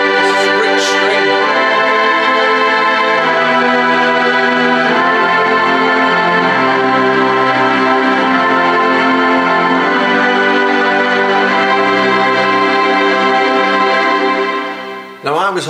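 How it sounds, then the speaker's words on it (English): A Roland FP-E50 digital piano plays a lush, sustained string-ensemble patch, its held chords swelling and blending smoothly for about fifteen seconds, loud and close, with no talking. "So if I put this on, this is a rich string."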